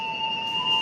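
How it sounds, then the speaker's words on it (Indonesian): A long, steady station whistle sounds at Kutoarjo railway station in Indonesia before the Sawung Galih train departs, a loud, unbroken two-tone blast filling the moment. "Peluit panjang berbunyi"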